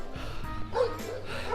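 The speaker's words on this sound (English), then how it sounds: "All the dogs are saying hello." Several dogs bark and yip from nearby on a steep uphill running route, a few short overlapping bursts with a faint whimper, over a steady low background of movement and breathing.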